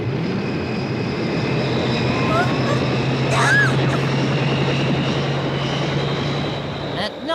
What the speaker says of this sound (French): Mets les hélices en route.